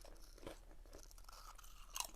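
Crisp crunching and chewing of Australian kettle-cooked potato chips, a few close, quiet bites with brief crackly bursts and no talking.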